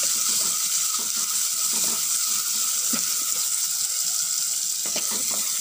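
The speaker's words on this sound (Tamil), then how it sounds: "அப்புறம் பூண்டு சேர்த்துக்கோங்க. நல்லா எல்லாத்தையும் வதக்கி விட்டுக்கோங்க." Curry leaves and garlic sizzle steadily in oil in a pan for tamarind curry, with a continuous close frying hiss punctuated by soft stirring scrapes and taps.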